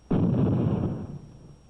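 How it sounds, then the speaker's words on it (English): A letter bomb detonated between a bank of fluorescent tubes: a single sharp blast booms suddenly, followed by a rumbling low roar that decays over about a second. "A letter bomb will be detonated between a bank of fluorescent tubes."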